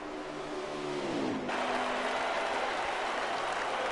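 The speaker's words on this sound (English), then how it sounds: "Fans are cheering." A dense crowd roars and cheers continuously in NASCAR Heat 5, a loud steady wash of noise with a race car engine note fading underneath early on.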